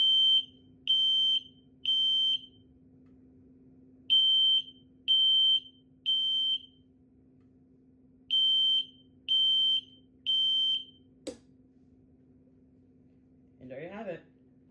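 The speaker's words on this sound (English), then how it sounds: "this next one is a Gentex Commander 1. However, this one is actually a horn strobe. This one actually sounds like a smoke alarm" Gentex Commander 1 horn strobe fire alarm sounds in triple bursts of loud shrill beeps, repeated three times with a steady hum underneath, followed by a sharp click and brief talk.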